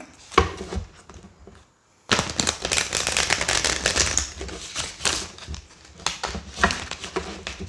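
Rapid papery riffling and flicking of tarot cards being shuffled close up, in bursts with short pauses and one brief silence near the start.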